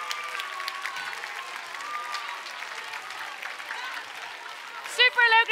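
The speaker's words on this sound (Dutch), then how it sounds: "Mag ik nog één keer een heel groot applaus voor dokter Tila Pronk?" Children's audience at a junior university lecture applauding the lecturer with sustained, even clapping, ending in a sudden loud voice cutting in at the close.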